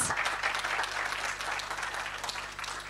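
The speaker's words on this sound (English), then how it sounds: "Let's give a round of applause to our first pitchers" A crowd claps steadily in a sustained round of applause for startup pitchers at a demo day, dense and even, fading slightly toward the end.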